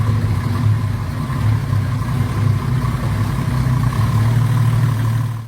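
A Ford Falcon ESP with a 351 cubic inch, 5.8-liter Cleveland V8 runs at a steady idle, a deep, even low rumble held close and constant without revving.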